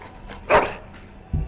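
A dog in the fantasy role-playing game Dragon Age: Origins gives a single sharp bark, close and fairly loud, followed by a brief low yip or whimper.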